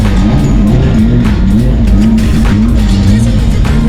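Drift cars practise on track at Mondello Park, their loud engines droning continuously with a rough, pulsing note and rising revs, close and unbroken throughout.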